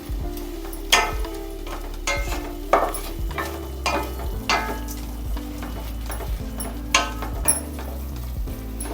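Roasted poha tipped into jaggery syrup and stirred with a spoon, sizzling softly under a series of sharp scraping clicks against the pan at an uneven rhythm, close and fairly quiet.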